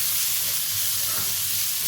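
Ginger garlic paste fries in a pan for a camel fat curry, giving a steady, close hiss and sizzle that runs unbroken throughout.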